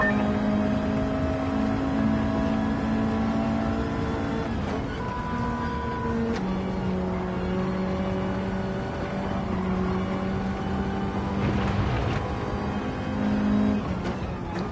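A racing car in the video game Gran Turismo 7 drives with a steady, loud engine whine that shifts pitch through gear changes and throttle lifts, heard alone without talk.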